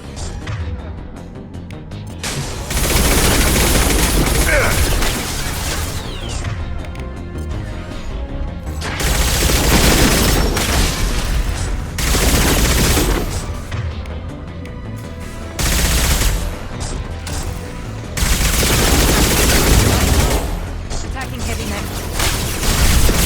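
Sustained bursts of automatic gunfire from Mass Effect 2 roar in several long, loud volleys separated by brief lulls, with heavy crashing impacts mixed in.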